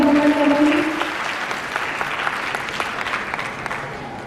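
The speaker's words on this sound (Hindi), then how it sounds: "जोरदार तालियों के साथ उनका स्वागत और अभिनंदन करेंगे।" An audience at a Chhattisgarh medal and honours ceremony applauds a welcomed guest, steady close clapping that runs for several seconds, with a voice briefly over the start.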